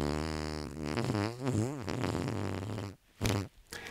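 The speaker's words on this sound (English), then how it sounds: "The Whoopee cushion was a practical joke toy which, when sat on, would produce an amusing fart noise." A practical-joke whoopee cushion lets out a long, buzzy fart that wobbles in pitch, followed by a short pause and two brief sputtering bursts, loud and close with no voices.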